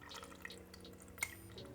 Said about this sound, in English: pouring a hot liquid through the filter bag